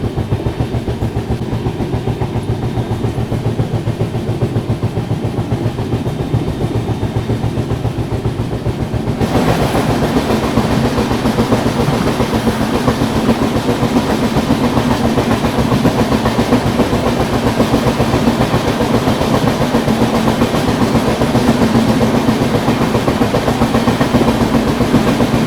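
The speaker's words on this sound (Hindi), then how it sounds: "चलो ट्रेन तो निकल गई अभी देवरिया रेलवे स्टेशन से।" The Azamgarh LTT Mumbai superfast express runs steadily on the rails with a loud, constant rumble and rattle from inside the carriage, getting louder partway through, with no voices.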